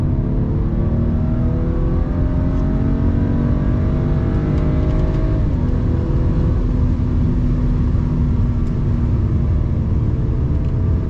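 A stock-tuned BMW 335i E92 accelerates through a full pull, its engine a loud continuous drone whose rising harmonics climb steadily, with a brief dip partway as it shifts, heard from inside the car with no talking.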